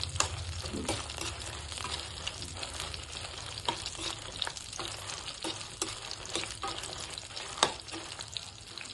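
Dried red chillies frying in oil in a pan give a close, busy sizzle. Frequent sharp scrapes and stirring clicks cut through the steady crackle.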